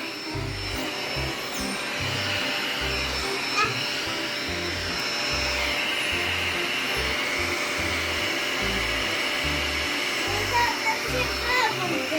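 An electric vacuum cleaner runs steadily with a loud continuous drone throughout, while children talk and play nearby.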